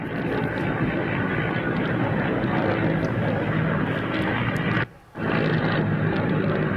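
Mi-8 helicopters flying in Belarus, a loud, continuous engine and rotor roar that stays steady and close, with one brief dropout near the end and no talk.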